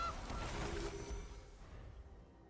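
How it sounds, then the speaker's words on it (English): A goose honks in the MTG Arena video game as the Gilded Goose card is played, one faint honk near the start fading into soft game ambience. "I'm gonna go with the Gilded Goose first."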